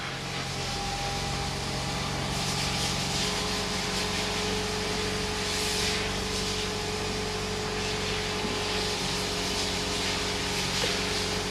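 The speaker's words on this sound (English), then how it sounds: "So now is a good time to start the car" Lexus 2.0 turbo four-cylinder engine idles steadily after starting during an oil change, a constant low hum with a faint whine, even and unbroken throughout with no talk.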